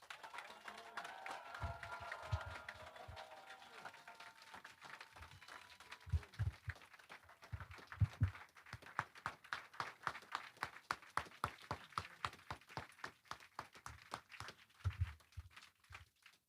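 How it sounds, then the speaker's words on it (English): An audience applauds after a political speech on peace in Ukraine: a faint wash of scattered clapping and murmur grows into steadier rhythmic clapping that continues to the end. "Another big round of applause."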